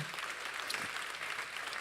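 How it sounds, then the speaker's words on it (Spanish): A church congregation claps together during a Spanish-language sermon, giving applause to the Lord. The clapping is steady and moderately faint, a continuous wash of many hands lasting a couple of seconds with no talk over it. "Dale un aplauso al Señor"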